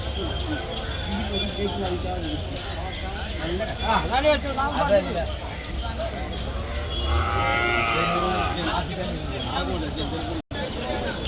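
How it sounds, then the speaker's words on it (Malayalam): Cattle, bulls and milking cows at a busy livestock market, with repeated moos, some near and loud, over constant crowd chatter and people talking. "കറവ് പശുക്കൾ ഒരുപാടുണ്ട്."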